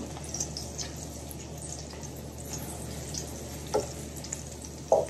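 Salmon skin sears and crisps in a pan with a quiet, steady sizzle and a couple of brief louder pops and crackles near the end.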